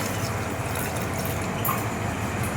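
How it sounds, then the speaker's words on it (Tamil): Water poured from a small pot into a cooking pot of mutton chukka with fennel, pepper and cinnamon, a steady close splashing rush that runs continuously without talk. "போட்டுக்கிட்டு தண்ணி ஒரு அரை சொம்பு ஊற்றினா போதும்."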